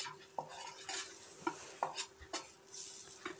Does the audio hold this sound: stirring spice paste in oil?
yes